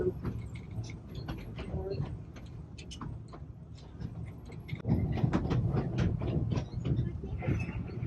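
Narrow gauge train of the Cripple Creek and Victor Railroad in Colorado rolling over track, a steady rumble with faint clicks and rattles of the cars that grows louder partway through, with some voices in the background.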